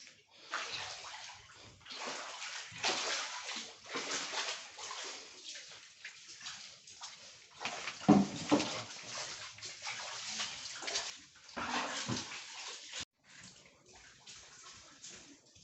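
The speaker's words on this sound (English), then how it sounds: "Water from inside room." Floodwater pours and sloshes inside a room of a flooded house, a faint, continuous watery rush with uneven surges and a brief break near the end.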